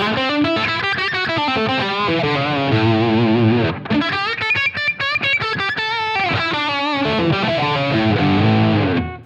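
Distorted electric guitar through a Line 6 Helix amp modeler plays a continuous run of chords and single notes with a thick, crunchy amp tone and no pauses.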